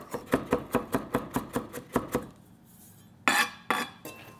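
A knife blade smashes garlic and ginger on a cutting board in a steady run of about a dozen sharp knocks, then a pause followed by a few heavier thumps, close and fairly quiet.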